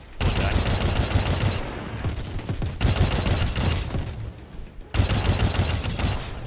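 Heavy automatic gunfire in the Star Citizen multiplayer shooter, with loud sustained bursts that pause briefly and resume, close and dense, while voices are faintly audible underneath.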